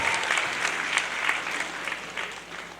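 Audience at an association inauguration applauding presented children, a steady moderate patter of many hands clapping, close and continuous for a few seconds with no talk over it.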